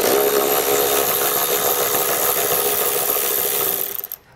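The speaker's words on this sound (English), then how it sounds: "These are going to be a T27 Torx bit. So we'll go ahead with an extension and get these removed." A ratchet with an extension and T27 Torx bit backs out taillight screws on a 2022 Chrysler, giving a dense, rapid run of metallic clicks that carries on steadily, close and loud, before stopping abruptly.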